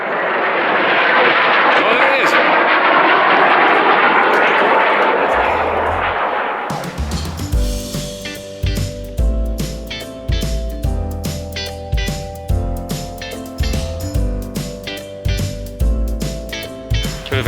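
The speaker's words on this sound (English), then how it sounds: "Bit of excitement with the jets there" Military jets fly low over the Lake District fells near Wetherlam, a loud broadband roar that swells and sweeps past for about six seconds before cutting away to rhythmic music.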